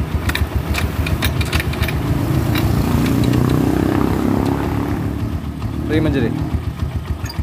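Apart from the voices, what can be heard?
pickup truck engine starting and running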